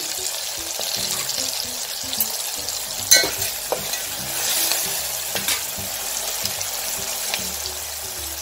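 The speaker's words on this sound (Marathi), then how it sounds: "आपल्याला चांगल्या प्रकारे फ्राय करून घ्यायचं आहे सगळं साहित्य। कढीपत्ता थोडासा" Garlic paste and curry leaves for masala khichdi crackle and sizzle in a pan with a steady frying hiss, cut by clinks and scrapes of stirring and one sharper clank near the middle.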